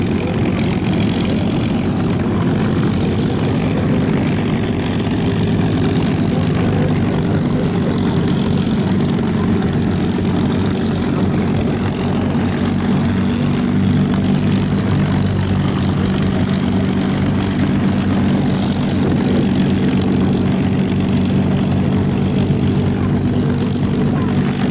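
A Lockheed P-38 Lightning's loud propeller engines drone continuously up close during a flyby, a heavy rumbling roar with a throaty exhaust that holds steady throughout.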